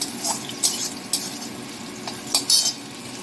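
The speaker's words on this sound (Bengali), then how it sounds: "দিয়ে দিচ্ছি কেটে রাখা টমেটো, একটু পেঁয়াজের সঙ্গে একটু নেড়ে নেবো" Chopped tomatoes and onions are stirred in a pan of spices for a Bengali rui fish curry: scattered spoon scrapes and clinks against the pan over a soft, steady sizzle, close by.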